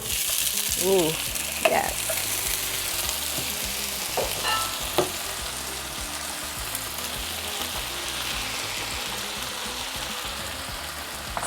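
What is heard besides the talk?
beans added to fried onions, sizzling and stirred in pan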